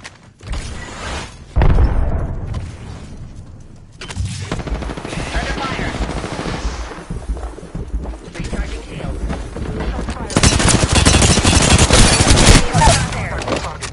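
Loud, close gunfire in the Apex Legends battle royale game, heavy automatic bursts and booming shots that come in waves, with a brief lull near the start and in-game voice callouts mixed in.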